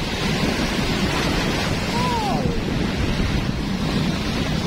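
Ocean waves at high tide give a continuous, loud wash of surf, with heavy wind buffeting the microphone throughout.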